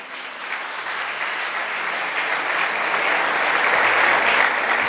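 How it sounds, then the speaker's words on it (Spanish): A church congregation gives loud applause in a dense, continuous roar of many hands that swells gradually and holds steady near the end, with no voices over it. "Le damos ese fuerte aplauso."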